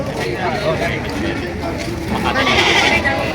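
Goats bleat amid a noisy, crowded goat market in Padre Garcia, Batangas, their cries mixed with people talking nearby.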